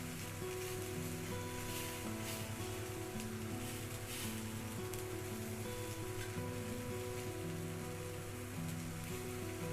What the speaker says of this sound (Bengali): আস্তে আস্তে এগুলোকে ভাজা করতে হবে।